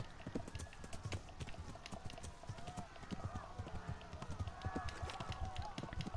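A horse gallops in the medieval video game Kingdom Come: Deliverance, its rapid, steady hoofbeats thudding throughout under game ambience, with a person talking over it.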